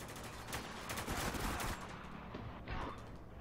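Gunfire in the video game Spec Ops: The Line, with a rapid rattling burst of shots that tails off and leaves a few scattered reports, fairly quiet with no talk.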